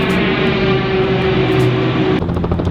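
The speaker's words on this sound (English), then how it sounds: "Another plane coming in." Airplane flying in over the desert, a loud steady engine drone that holds throughout and shifts slightly near the end.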